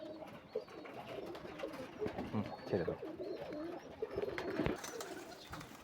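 Giribaz and Pakistani pigeons coo and burble in a low, steady murmur at close range, with a voice speaking briefly over the birds.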